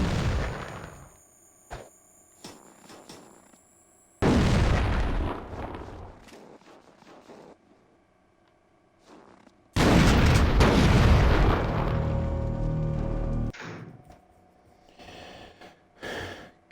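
Video-game explosions tear through a field test of a dome, one big blast early on and a second, longer roaring burst later, each fading into rumbling debris, with quieter thuds in between.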